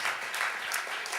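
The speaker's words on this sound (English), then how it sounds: "if you want to clap, please do" Audience applause at a literary reading event, a dense, steady wash of many hands clapping with no break through the short span, moderately loud and fairly close.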